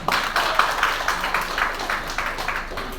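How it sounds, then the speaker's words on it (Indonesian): A church congregation claps together during a Sunday morning service, producing a dense, steady patter of many hands with no pauses and no voices above it. "Tepuk tangan dulu, saudara."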